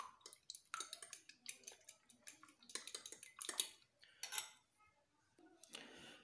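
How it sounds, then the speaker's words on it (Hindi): Omelette ingredients, including potatoes and cheese, being mixed in a bowl, with quick close clinks and scrapes of a utensil against the bowl in uneven bursts, pausing briefly before a final stir. "अच्छी तरह से मिक्स कर लेते हैं।"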